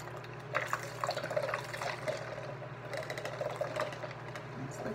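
A makeup brush spinner whirs steadily with its brush dipped in water, a continuous motor hum layered with sloshing, splashing liquid noise close by.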